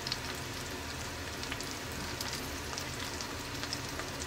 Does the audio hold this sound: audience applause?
no